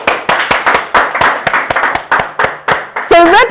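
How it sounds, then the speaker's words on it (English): An audience claps steadily in a lecture on startup portfolio management, with a dozen or so sharp, distinct hand claps in an uneven rhythm, followed by a brief voice at the end. "Let's clap for Red Arrow."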